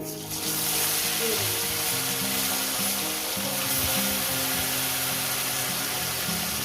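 Khoira fish pieces fry in hot oil seasoned with salt and turmeric, giving a loud, steady hiss and sizzle that starts abruptly and holds constant, with a low musical hum beneath.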